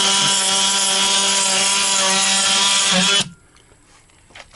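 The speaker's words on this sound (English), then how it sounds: "it's great for trimming down the foam" A power tool trims foam with a steady, loud, continuous buzzing whine for about three seconds, then stops abruptly, leaving faint rustling behind.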